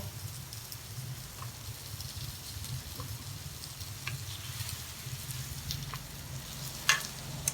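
Pork sizzles steadily on a hot Thai tabletop grill with a soft crackle and occasional pops, heard fairly quietly and close, with no talking.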